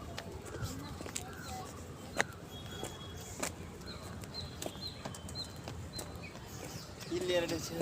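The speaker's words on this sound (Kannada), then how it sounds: "ಇದು ಚಿನಾಲ್ ಪಾರಿವಾಳ" Chinal pigeons at a roost in Bengaluru give soft, faint cooing under steady background noise, with a few scattered sharper sounds.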